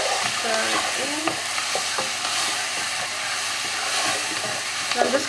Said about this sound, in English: So I'm just gonna let the onions get a bit brown in color